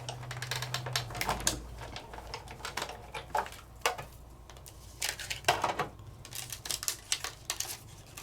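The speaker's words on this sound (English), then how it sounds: "I'm just die cutting out that shape." A die cutting machine presses a cutting plate through paper to cut out a shape, giving a series of clacking, crunching mechanical bursts and rolling scrapes at close range, uneven in rhythm, with no talk.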